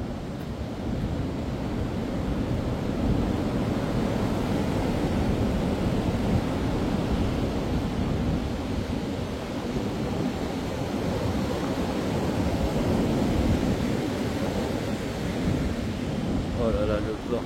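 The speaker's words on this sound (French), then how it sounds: "si on se met dessous l'arbre, si on entend mieux le vent" Violent storm wind from Storm Floriane in January roars steadily and loud around a tree, a dense rushing blast that never lets up, with occasional gusty surges.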